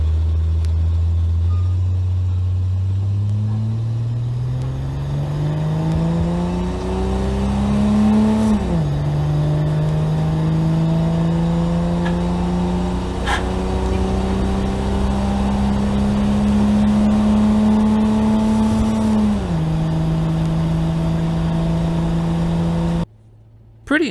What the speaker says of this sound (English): First up, the 225 Slant 6.